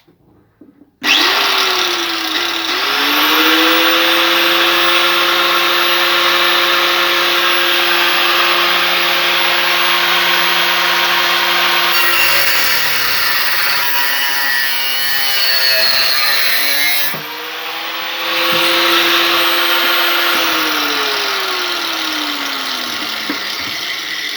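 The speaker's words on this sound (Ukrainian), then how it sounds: "Тобто відрізною машинкою." An angle grinder used as a cut-off machine cuts a steel knife blade for a folding knife, starting abruptly and spinning up into a loud, sustained, harsh whine that dips under load midway before rising again.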